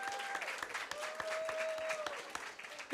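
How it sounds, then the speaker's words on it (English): A crowd applauds at a football program event, scattered clapping with sharp individual claps over a sustained background, while a faint tonal sound drifts through the middle; no speech is heard. "Give him a nice round of applause."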